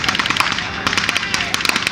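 Rapid bursts of gunfire at a battle re-enactment in an outdoor arena at Quex Park, dense overlapping shots crackling continuously, moderately loud and fairly close, with faint voices mixed in.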